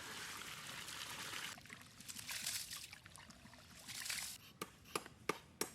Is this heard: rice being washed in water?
yes